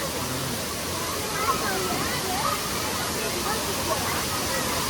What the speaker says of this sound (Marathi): पण भारी वाटतं ना वॉटरफॉल. नॅचरल वाटतं.